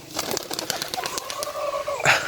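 A racing pigeon tossed skyward on a single release, a burst of wing flapping near the end over a steady outdoor background with faint bird calls.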